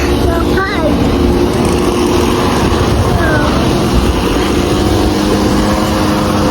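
Steady droning engine of a grass cutter mowing a park in Japan, a constant mid-distance hum running throughout with faint background sounds.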